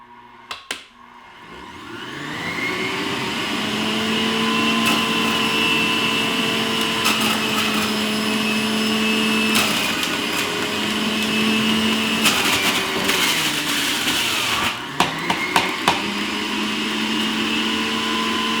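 A loud, steady high-pitched motor whine of a juicer running at top speed, close by, with a few brief clatters near the end.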